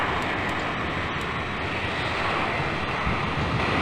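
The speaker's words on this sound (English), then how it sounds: "The sound which is coming is from this aircraft near to me." A jet engine running at a steady roar on a nearby aircraft during a ramp start in the flight simulator Falcon 4 Allied Force, loud, broadband and continuous, with no talk over it.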